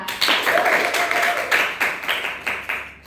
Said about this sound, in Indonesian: Tepuk tangan dulu pemirsa.